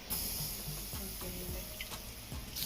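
Tap water runs steadily as vegetables for a Jamaican pumpkin soup are rinsed, a close, continuous splashing hiss that lasts the whole moment.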